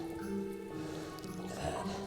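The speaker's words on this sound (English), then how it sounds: "we're going to fine strain it into our chilled coupe" A Halloween cocktail is fine-strained into a chilled coupe glass, giving a quiet, thin trickle with soft drips and liquid splashes at close range.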